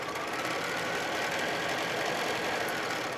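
A sewing machine runs steadily, stitching chain-pieced quilt block units for an Accuquilt Arkansas Traveler block, a continuous close mechanical whir with no pauses and no talking.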